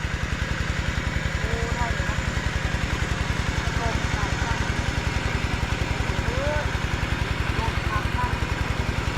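An engine-driven water pump running outdoors near a fish pond, producing a steady, close, rapidly pulsing engine thrum with no variation in speed, and faint chirps overhead.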